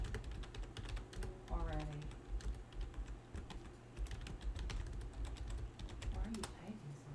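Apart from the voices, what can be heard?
fast typing on a computer keyboard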